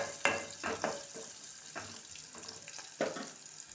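Curry with green chillies being stirred in a pan, a few scraping spoon strokes and light sizzling in short bursts, close and fairly quiet.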